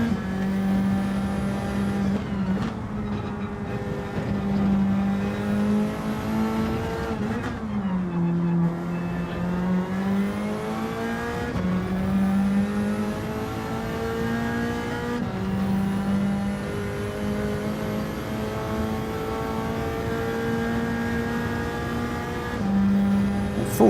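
Race car engines in Gran Turismo, played in VR on PSVR2 in an online lobby with a Ferrari in the field. A steady, droning engine note rises and falls with gear changes throughout, loud and continuous, with no talking.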